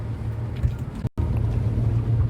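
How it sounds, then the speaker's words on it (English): A 2006 Infiniti G35S sedan with a six-speed manual and aftermarket catback exhaust drives along, giving a steady deep exhaust drone with wind and road rumble, briefly cut by a short dropout midway. "It's got like a nice Catback exhaust, so you can hear that."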